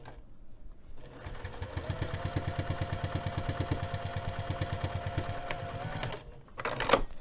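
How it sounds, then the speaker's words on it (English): A sewing machine runs a line of stitching across a bag flap at a 3 millimetre stitch length. It hums in a fast, even run of rapid clicks for several seconds, then stops, followed by a brief rustle of handling. "here goes the second line of stitching"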